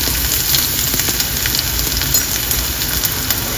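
Mustard seeds spluttering in hot oil in a pan, a dense steady sizzle with scattered sharp pops and crackles throughout, close and fairly loud, no talking.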